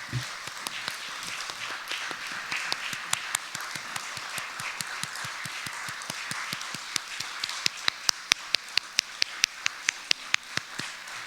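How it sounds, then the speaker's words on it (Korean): A church congregation claps during a Sunday worship service: scattered sharp hand claps that grow into a quicker, louder run of claps, fairly close, over a quiet room. "우리 다시 한번 뜨거운 박수로 격려하겠습니다"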